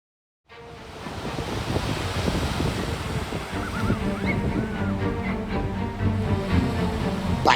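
Sea waves wash onto the shore in a steady, continuous roar with gusts of wind buffeting the microphone, close and fairly loud with no voices.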